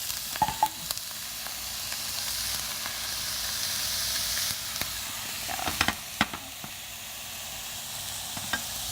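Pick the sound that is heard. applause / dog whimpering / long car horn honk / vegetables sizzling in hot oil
vegetables sizzling in hot oil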